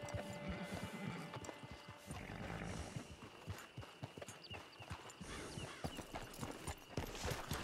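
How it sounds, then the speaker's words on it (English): Hooves of a horse near a camp clip-clop steadily in a PC western game, a quick uneven patter under a soft ambient background, with no one talking. "It's your horse."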